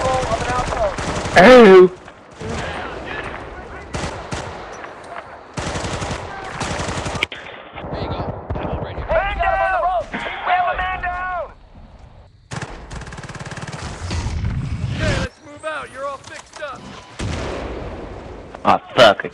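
Machine gun and artillery fire in a Battlefield 2 battle, loud rapid bursts of automatic gunfire and heavy blasts that come and go throughout, with someone shouting over the shooting.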